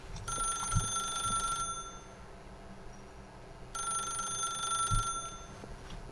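In The Stanley Parable, a telephone rings out in two clear bursts of about a second and a half each, separated by a quiet gap, loud and close against a low room hum.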